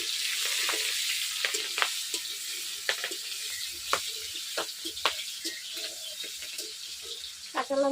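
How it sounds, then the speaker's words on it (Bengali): Green chillies dropped into hot oil with five-spice seeds in a village kitchen sizzle steadily, with sharp pops and crackles bursting irregularly over a constant hiss, close and fairly loud. "লঙ্কা ফুটতেছে কত!"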